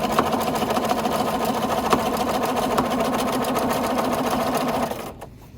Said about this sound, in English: And then I just stitch.